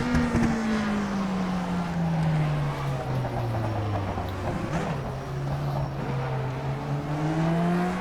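The engine of a Lotus 49B race car in rFactor 2 screams at high revs near the listener, its pitch sliding down and then climbing again as the throttle is eased and reapplied through corners.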